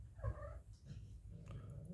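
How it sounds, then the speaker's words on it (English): Cats heard faintly in a room during an electronics workbench session, a short mewing or vocal sound near the start over low background hum. "excuse the cats"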